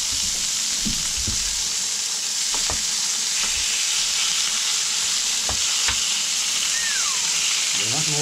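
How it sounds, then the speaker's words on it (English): Leftover moose pie fries on a propane stove top, a loud continuous sizzle with occasional clinks and scrapes of a utensil stirring the pan. "Just gonna fry it up."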